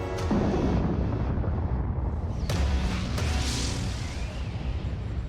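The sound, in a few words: volcanic explosion booming from the crater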